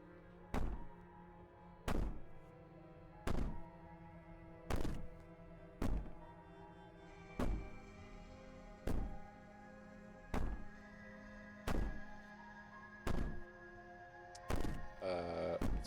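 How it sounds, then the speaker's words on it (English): Heavy thuds pound on a door in the game Slay the Princess, about a dozen evenly spaced booming knocks roughly one per second over a low droning ambience, loud and close, with no voices. "Maybe the banging and wailing will stop if you just don't pay attention to it."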